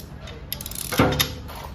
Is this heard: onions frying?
no